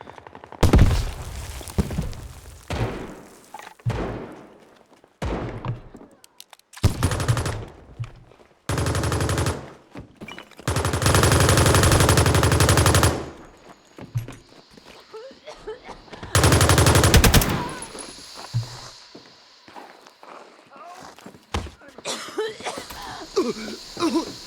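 Bursts of heavy machine gun fire in the World War II game United 1944, long sustained volleys alternating with short stuttering shots and quiet gaps, loud and close with brief rough vocal noises between.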